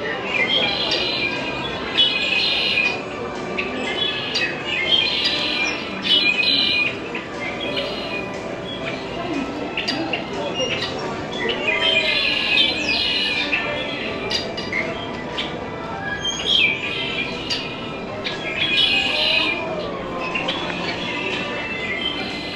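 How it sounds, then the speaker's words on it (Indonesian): Birds chirp and squawk in repeated bright bursts over a continuous rumbling, screeching mechanical background, with voices now and then in the mix. "tadi burung-burungnya pada berkicau semua"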